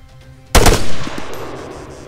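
A single loud, close burst of machine gun fire in the military game ArmA 3, sharp onset followed by a rolling echo that fades over a second or two.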